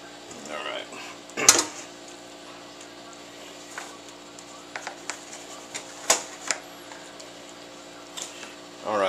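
Spatula scraping cheese and cream from a container while making homemade mac and cheese: scattered close clicks and scrapes against the container over a steady low hum, with some sharper knocks.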